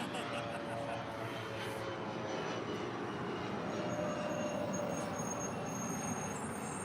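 An Alaska Airlines Boeing 737-800 arriving at LAX from Laredo makes a steady, broad roar that holds at an even level throughout, with faint voices under it.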